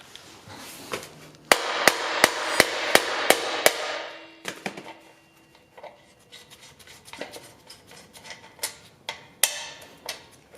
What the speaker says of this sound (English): Then we need to hammer this one through.